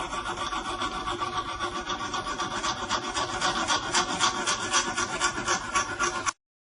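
A metal file rasps along a knife blade to sharpen it, giving a steady run of quick, rhythmic scraping strokes at close range for about six seconds before stopping abruptly. No talking.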